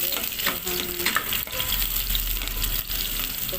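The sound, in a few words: sautéing aromatics in oil for chicken afritada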